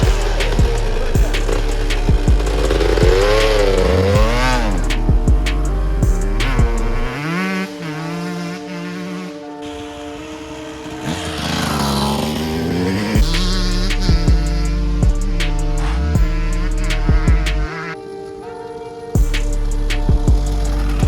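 Yamaha YZ125 two-stroke dirt bike pulling away from a dead start, its engine loud and close, revving up and down through rising and falling pitch sweeps with brief drops between bursts.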